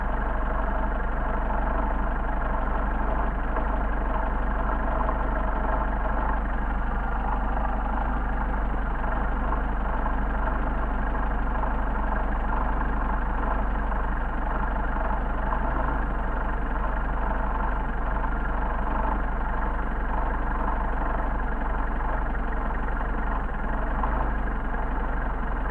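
A Mercedes 190SL engine idles steadily with its Solex carburetors being adjusted, a continuous close, loud low rumble that holds even throughout.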